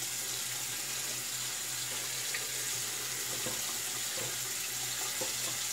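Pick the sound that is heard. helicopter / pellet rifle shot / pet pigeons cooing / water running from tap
water running from tap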